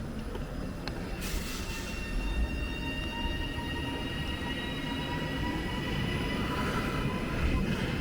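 Train passing through Leyland station, a steady rumbling roar of wheels and carriages with faint high whining tones and brief squeals, heard from the platform with no talking.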